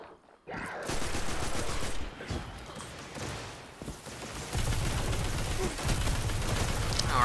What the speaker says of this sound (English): you guys got snipers and it hurts